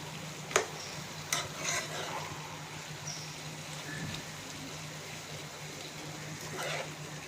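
A spoon stirs turmeric and black pepper powder into a spiced tomato lentil soup, a few light clinks over a low steady simmering hiss.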